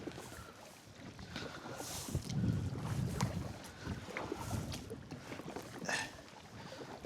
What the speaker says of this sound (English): You can see it is freaking windy on this little lake. The wind is absolutely whipping